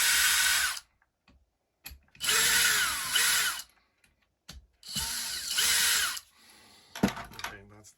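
Power drill backing screws out of a Karcher K4 pressure washer, three close whirring bursts with spin-up and slowdown, separated by brief pauses with small clicks and handling noises.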